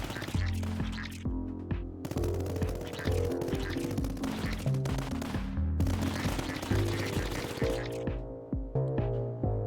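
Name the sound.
gunfire in video game Tower Dominion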